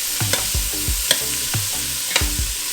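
Gulf shrimp fry in a pan with a constant close sizzle, punctuated by several distinct scraping and tapping strokes of a utensil at uneven intervals, no talking.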